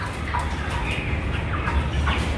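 Muscovy ducks, 37 days old, call and murmur as a flock on a farm: overlapping low hisses and soft chattering from several birds nearby, continuous and moderately loud.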